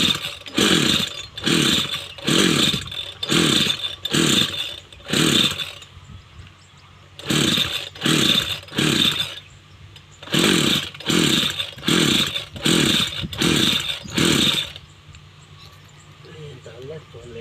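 A faltering motor revs in repeated rhythmic bursts, about a dozen harsh buzzing pulses in two runs separated by a brief lull, loud and close.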